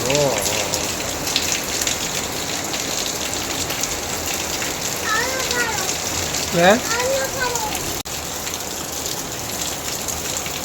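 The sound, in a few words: heavy rain in Surat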